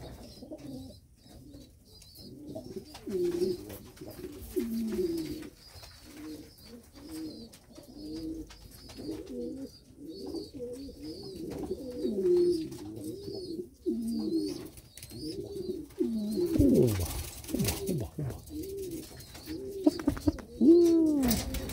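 Pigeons coo in repeated soft, throaty phrases, close and fairly quiet, one call running into the next in a steady rhythm, with a few rustles and brief noise bursts toward the end.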